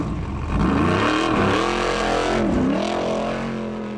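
A Formula Offroad car, Ont Brjála, climbs a hill at Svinavatn with its engine roaring loud and close, revving up and down in surging waves throughout.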